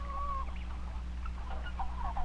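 A hen on a farm gives a few soft, close clucks and murmurs over a steady low hum, with no talking.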